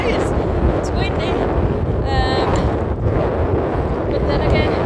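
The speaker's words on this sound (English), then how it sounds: "It's windy." Wind blows over a microphone on a long-distance hike, a constant loud rumbling buffet with gusty surges, and a voice speaks faintly under the noise.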